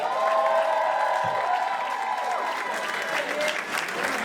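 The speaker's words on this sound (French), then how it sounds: "est-ce qu'on peut les applaudir encore une fois?" Audience applause and scattered cheering fill the finale of a drag show competition, a steady, loud wash of clapping from a crowd that continues throughout without a break.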